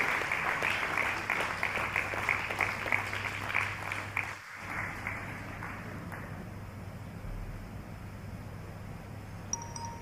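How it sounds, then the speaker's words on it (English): Audience clapping at a book presentation, a sustained round of applause that fades after a few seconds into quiet room tone, heard from a moderate distance. "Can we please keep the applause rolling?"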